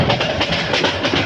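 The Kalni Express, a Bangladeshi train on the Dhaka to Sylhet line, roars along at high speed with a dense, steady rumble and a rhythmic clatter of wheels, loud and close from start to finish.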